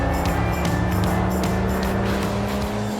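A race car in a 24 Hours of LeMons endurance race drives on at steady, loud engine drone with rhythmic pulsing harmonics, heard continuously from the cockpit with no talking.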